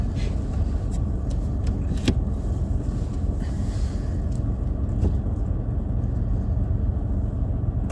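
A car pulls away during a UK driving lesson, with a low, steady engine and road rumble heard from inside the cabin and a few faint clicks, without talking.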